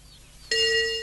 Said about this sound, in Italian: suona il campanello